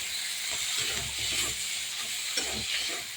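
Soft, continuous sizzling in a pan as fried stingray fish is stirred into spiced oil, with scraping, shuffling stirs throughout, close by and fairly quiet, no voices.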